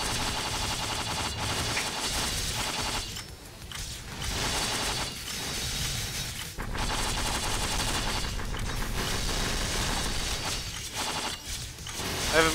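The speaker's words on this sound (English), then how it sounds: "Machine gun that then summons another machine gun of a different caliber" Machine guns fire in the video game Magicraft, a dense, continuous mechanical rattle of rapid shots that runs almost without pause, with brief dips before the fire resumes.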